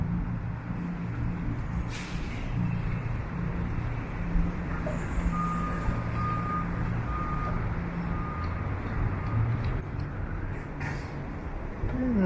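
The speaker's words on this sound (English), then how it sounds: "There's the Sherbourne bus." A Sherbourne city bus rolls along a busy downtown street near Front Street, its low engine rumble blending into steady traffic noise, with a vehicle's reversing beeps chiming in the middle.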